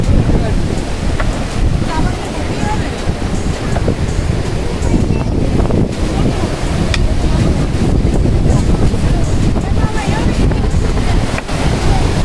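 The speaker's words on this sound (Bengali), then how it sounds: "আর সমুদ্রটা কিন্তু দেখতেই পেয়ে গেছি। এবার চলো, দেখো কত ঢেউ, জলটা কত কাছে চলে এসেছে।" Sea waves wash in close to the shore, a loud continuous roar of surf heavily mixed with buffeting wind on the microphone, with no clear breaks between swells.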